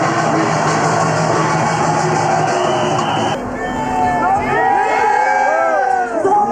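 Tens of thousands of people roar and cheer at the Gijisi tug-of-war festival as the match begins, a massive sustained crowd din with high shouts and whistle-like cries rising over it in the second half.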